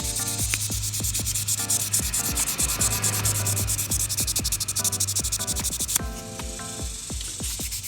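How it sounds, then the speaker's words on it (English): Wet sanding of brass piano leg pieces from a 1969 Yamaha spinet with 2000 grit paper produces a steady, close, continuous gritty rubbing in quick back-and-forth strokes, loud and unbroken throughout. "So we're sanding all the tarnish off and getting the last bit"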